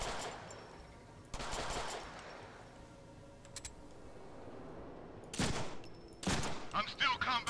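Bursts of automatic gunfire in the Deadpool video game, played on PC, crackle over steady background noise, with a sharp cluster near the start, another around the middle and rapid volleys toward the end.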